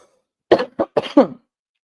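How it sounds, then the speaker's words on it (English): Four harsh coughs in quick succession, close and loud, with a throaty rasp at the end. "this cough is not clearing up any better"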